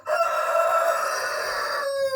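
A rooster crows loudly and close, one long drawn-out call that holds steady and then drops at the end.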